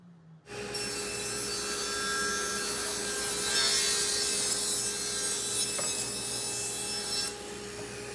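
Continuous sawing through 2x4 lumber, cutting leg pieces to length for a workbench-style build; a steady, close rasping stroke runs nearly the whole time after a brief quiet start, with no talking.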